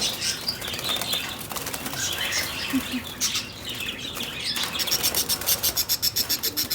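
Young lovebirds flap their wings in a cramped cage, with rapid fluttering bursts and scrabbling that grow more rhythmic toward the end, mixed with faint chirps and no talk.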